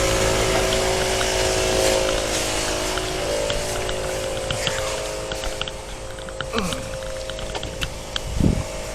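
Air steadily hissing and humming into a flat, balding tire on a 2012 Ford F150 Super Crew as it inflates, a continuous close drone with faint clicks and a low thump near the end.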